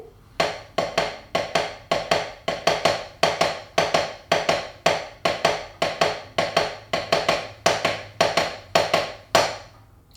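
Close, crisp tapping on a hard surface, a repeating three-beat pattern played in triple meter with an even, steady pulse and no voices.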